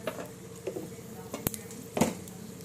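Dried red chilies and seasoning spluttering in hot oil for a bitter gourd pickle tempering, with soft intermittent crackles and a few sharper pops over a quiet sizzle.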